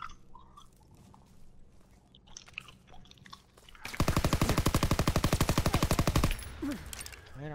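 Automatic gunfire from a World War II era first-person shooter, Call of Duty: WWII, in a Hardpoint multiplayer match: a loud, rapid burst of evenly spaced shots lasting about two seconds, preceded by quieter game noise.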